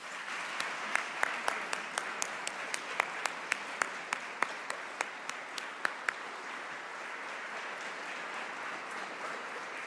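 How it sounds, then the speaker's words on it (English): Sustained audience applause at a human rights award ceremony, a steady wash of many hands clapping with sharper individual claps standing out through the first six seconds, continuing evenly to the end. "Please give them a round of applause."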